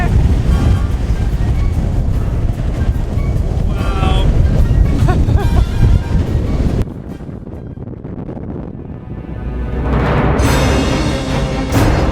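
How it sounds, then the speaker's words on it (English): Strong gusting wind buffets and roars across the microphone on the Tongariro Crossing near the Red Crater in New Zealand, loud and continuous, briefly easing before surging again. "It's a wee bit windy up here."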